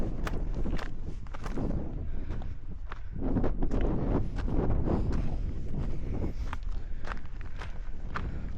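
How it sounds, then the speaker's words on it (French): Strong wind gusting across a microphone while climbing on a foggy day in Marseille, a steady rough roar with scattered crunching footsteps and knocks throughout. "Quand on commence à prendre la hauteur, il y a le vent qui commence à souffler"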